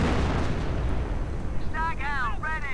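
Heavy, rumbling gunfire and explosions in a World War II tank video game fill the scene continuously, with a sharp burst of higher rattling shots near the end; talk from players runs under it.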